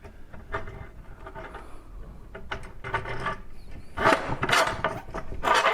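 A metal threaded rod slides and scrapes through a drilled hole in a wooden table leg, irregular close rubbing and grinding bursts that grow louder and more rasping toward the end.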